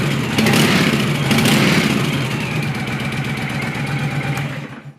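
A 2009 Honda VTX1300T motorcycle V-twin idles without choke or enricher, suspected carburetor problems; steady close-up chugging with a slight swell early on, then a gradual fade toward the end, no talking.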